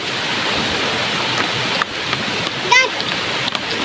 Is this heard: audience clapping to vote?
no